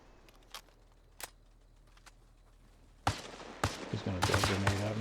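Arma Reforger gunfire comes as a few isolated distant shots, then a louder burst of rapid close firing with a humming tone beneath it.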